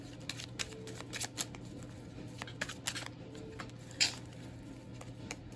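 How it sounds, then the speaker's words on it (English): Tarot cards being shuffled by hand, a close, soft run of papery flicks and taps with a sharper snap near the end, no voices over it. "These cards keep flipping over as I'm shuffling."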